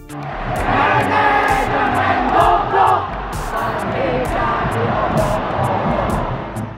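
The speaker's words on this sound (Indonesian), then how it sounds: "Anthem atau sorakan dari The Jaman yaitu berkumandang seusai pertandingan melawan Persib." The Jakmania supporters of Persija chant anthems in a stadium after the match against Persib, a dense, loud crowd roar of many voices singing and shouting steadily, with a few sharp knocks standing out.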